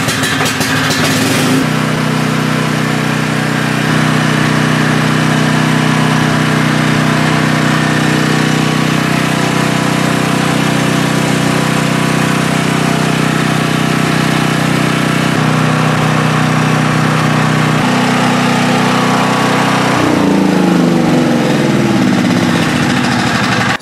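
A portable generator engine runs steadily throughout, loud and close, with a continuous droning hum and a brief shift in pitch near the end, while the unit is not producing electrical power.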